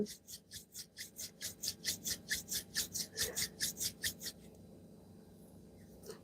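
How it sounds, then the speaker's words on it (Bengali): Two palms rub briskly together to warm them, about twenty quick rasping strokes in an even rhythm, close and crisp, stopping abruptly after roughly four seconds to leave a quiet room. "আবার একটু হাতে ঘষে নিন গরম করে নিন"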